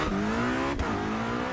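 Racing car with 727 horsepower accelerating hard in a video game, a loud, steady engine roar climbing in pitch as it pulls away, close and continuous with no talking.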